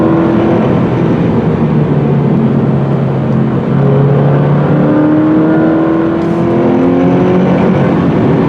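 Engine of a 2018 Toyota 86 GT sports car revving and climbing through the rev range on uphill mountain curves, a steady loud interior drone with rising and falling pitch across the whole stretch.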